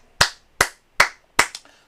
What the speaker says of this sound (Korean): 여러분들 박수 한번 치고 들어가자